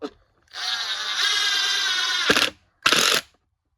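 A RIDGID 18V impact driver (R86002) drives a screw into wood, whirring loudly and steadily for about two seconds before it cuts off. A brief second burst follows, close and alone.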